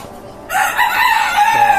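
A rooster on a caged chicken farm crows loudly and close by, one strong call after a brief quiet start.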